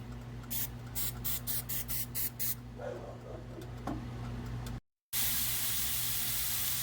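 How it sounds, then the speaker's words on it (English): Grilling spray hisses onto the grate of a Ninja Woodfire grill in several short bursts, followed by a louder steady hiss, close and otherwise quiet. "I'm going to use this grilling spray so the fish won't stick on the grill."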